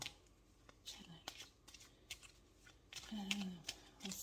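Playing cards are shuffled by hand in quick, quiet riffling bursts with soft taps and rustles, close and faint, while a person speaks softly at times.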